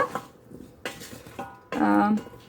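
A utensil scrapes and clinks against the metal pot of an Instant Pot while roasted potatoes are stirred, a few separate scrapes followed by a louder, sustained rattle near the end.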